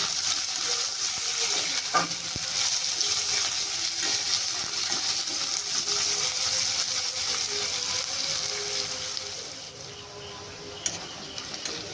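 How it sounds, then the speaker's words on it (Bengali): Two small, finely chopped onions fry in hot oil in a pan for a Bengali spiny gourd dish, giving a steady, close hiss and crackle with a few soft clicks throughout. "পেঁয়াজটা কুচি কুচি করে কেটে রেখেছি, ওটাকে ভেজে নেব।"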